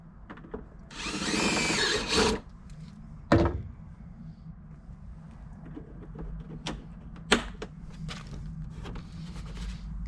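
A power drill drives a screw in short bursts, one long whir followed by a sharp jolt, then scattered clicks and knocks of handling between runs.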